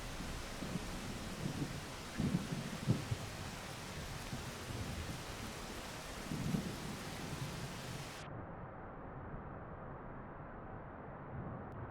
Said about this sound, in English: It's all purple rain, dude.